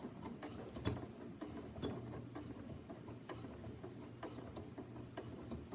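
A sewing machine stitches fabric for a coin purse with a fast, steady mechanical ticking and whirring, running continuously at a faint, even level with no voices.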